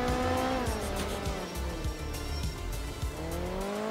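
A rally car engine in the video game Art of Rally drones and revs, pitch sweeping up and down, with tires scrubbing and skidding through a handbrake slide, loud and continuous with no voices.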